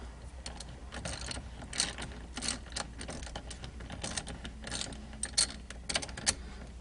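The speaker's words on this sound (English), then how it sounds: "So I simply attach the ratchet" Ratchet loosening the single T50 bolt of a Saab 9-3 steering wheel, a steady run of faint rapid clicks close by with a low background hum, no voices.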